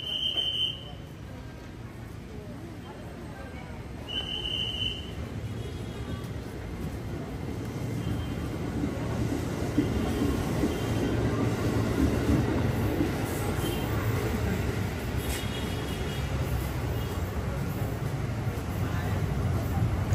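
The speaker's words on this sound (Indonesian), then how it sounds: "itu dia KRL yang telah datang dengan warna khas, warna stainless steel" A stainless-steel KRL commuter electric train rolls into a station on the Bogor line, its rumbling wheel and motor noise swelling steadily and staying loud, with two short chime tones at the start.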